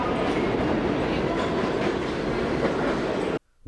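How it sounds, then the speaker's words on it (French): A moving metro train gives a loud, continuous rumble and roar with rhythmic clattering of wheels on rails, ending abruptly. "Un métro en mouvement,"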